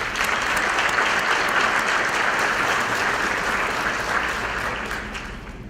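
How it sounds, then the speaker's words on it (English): Sustained applause from a luncheon audience at a Federal Bar Association event, steady and dense throughout, tapering slightly toward the end with no talk over it. "please join me in thanking them with a round of applause"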